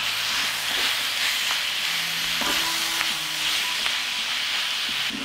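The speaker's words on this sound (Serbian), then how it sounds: "I sve ću to promešati." A spoon stirs spiced meat with sweet ground red paprika and tomato paste in a pan, steady frying sizzle with soft scraping and clinks throughout, no talk.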